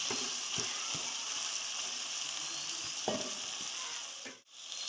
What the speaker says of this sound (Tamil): இந்த தக்காளியை இப்படி மசிச்சு விட வேணும்